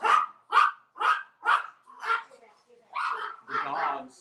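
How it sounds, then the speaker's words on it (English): Several dogs bark in a rapid, loud series of about five sharp barks, then a rougher, more clustered burst of barking and yips, close by and heard alone. "The dogs, I don't know what's wrong with the dogs."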